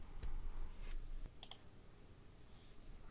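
A few sharp mouse clicks on an enable button in a database setup screen, quiet and close, with a faint click cluster near the middle and low room hum otherwise.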